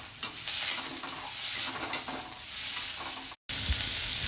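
Finely sliced onion frying in oil until soft: a steady, close sizzle and crackle with a few stirring scrapes, cutting out briefly near the end before a short burst of sizzle returns.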